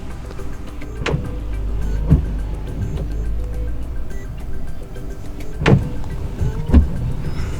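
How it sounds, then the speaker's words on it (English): Front windshield wipers on a Mercedes V-Class W447 sweeping inside the cabin, soft motor whirr under a steady hum with a thump at each end of the stroke, repeating every second or so. "You can also change speed for the front wipers by twisting this top of the lever upwards."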